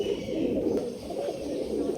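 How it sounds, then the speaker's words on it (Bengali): Caged Jacobin pigeons, including a white Jacobin, coo in a steady low murmur close by. Other birds chirp faintly in the background. "এই একটা জ্যাকামিন পায়রা আছে, হোয়াইট জ্যাকামিন, কালেঙ্কারও আছে"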